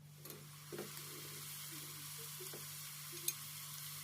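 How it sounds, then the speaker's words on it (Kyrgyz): Potatoes frying in oil over high heat for kuurdak give a steady, even sizzle with a low hum underneath and a few soft clinks of a utensil, and no talking. "улуу отто кызарганча кууруп алабыз."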